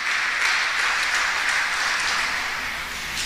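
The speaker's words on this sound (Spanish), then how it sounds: "Dale un aplauso al Señor" Congregational applause fills a church service, a steady wash of many hands clapping at an even level throughout, with no voices standing out.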